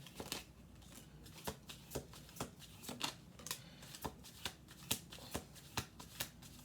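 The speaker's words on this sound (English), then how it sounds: "We'll do 2 more shuffles." Playing cards being shuffled on a table, a run of sharp, evenly spaced riffling snaps close to the listener, with no voices over them.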